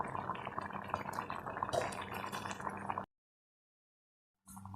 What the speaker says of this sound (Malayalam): നമ്മുടെ മീൻകറി തിളച്ചിട്ടുണ്ട്